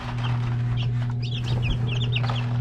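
Nine newly hatched chicks in an incubator, peeping in rapid high cheeps over a steady low motor hum, close by and continuous.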